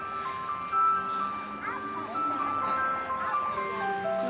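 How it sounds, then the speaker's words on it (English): An ice cream truck plays its melodic electronic jingle at moderate distance, the tune wavering over outdoor background noise, with faint voices. "The ice cream truck came back, and they were in masks too."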